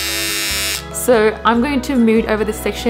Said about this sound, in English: I'm actually using a bikini trimmer and it works just fine